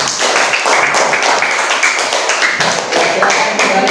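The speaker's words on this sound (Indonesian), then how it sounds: "Tepuk tangan aja dah." Students in a classroom applaud after a presentation, a brisk burst of many hands clapping close by in a dense, fairly even patter that holds at a strong level throughout.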